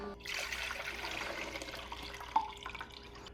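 Water running through a Gaggia Accademia espresso machine under repair for a flow clog, a steady soft trickling wash with a small clunk partway through, fairly quiet and with no talk.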